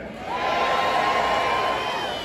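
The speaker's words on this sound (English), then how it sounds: "Perfect, you sound like a fantastic crowd." A live audience cheers and whoops together at an Indiana Jones stunt show, a loud sustained crowd roar that swells and holds for a couple of seconds.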